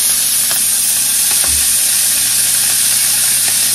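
Carrots go into a pot of braised beef shanks with a dull low thump, under a loud, constant hissing bubble of cooking that fills the whole stretch.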